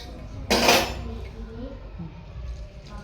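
A metal kadhai clatters down with a bright, short crash, followed by quieter kitchen clinks as water is added, and low background sounds.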